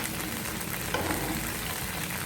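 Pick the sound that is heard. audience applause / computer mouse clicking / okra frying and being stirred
okra frying and being stirred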